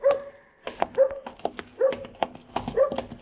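A dog whimpers and gives short barks and yips close by, a run of high whines broken by sharp bursts in quick, uneven succession.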